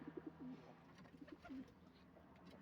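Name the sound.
pigeon or dove cooing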